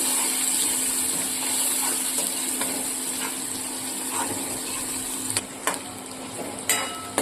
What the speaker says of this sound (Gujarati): હવે આપણે ડુંગળી નાખીશું મિક્સ કરી લઈશું